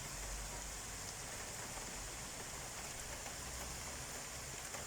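A downpour with hail in Pápa, Hungary, heard as a dense, steady hiss of heavy rain, faint and distant-sounding, with no voices.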